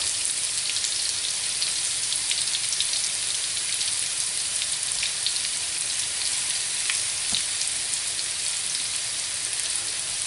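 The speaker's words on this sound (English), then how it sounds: "So what we need to do now is brown these meatballs all over." Meatballs browning in a frying pan as a steady, close hiss of fine crackling sizzle runs evenly throughout, with scattered pops and spits and no voices.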